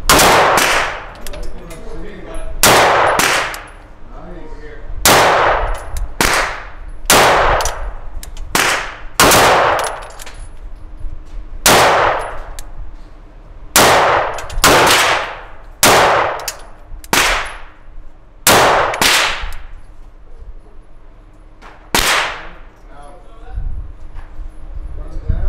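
Loud, sharp pistol shots from a Sig P320 Spectre Comp fired at an outdoor range, about sixteen reports in irregular bursts, each with a ringing metallic tail.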